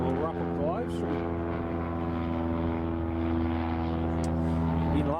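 A Q80 propeller airliner starts its engines at Prestwick Airport, giving a loud, steady multi-tone turboprop drone with rising whines layered over it throughout, heard close and continuous.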